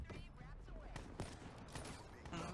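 Video game shooter gunfire, a dense continuous spray of rapid shots and game effects over a couple of seconds, mixed with game sound and some voice.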